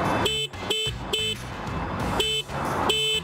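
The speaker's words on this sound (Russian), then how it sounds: "Еще ниже кнопка клаксона." The horn of a Skyboard BR80 electric trike sounds in five short, evenly spaced electronic beeps, close and loud, each a bright buzzing tone with brief gaps between.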